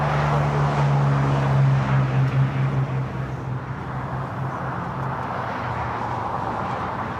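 Jet airliner taking off from runway 25 right at Los Angeles International Airport, a steady loud engine roar with a low droning hum that eases slightly after the first few seconds.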